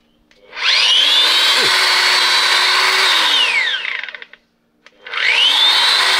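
A Bosch GWS 1000 angle grinder, 1000 W, spins up to a loud steady high-pitched whine, runs for about three seconds, winds down to silence, then starts up again near the mic.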